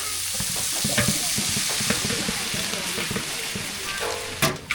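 Moringa leaves stir-frying in a pan with mustard seeds, chilli and onion give a steady, close sizzle broken by repeated scraping stirs, with a sharper clatter near the end.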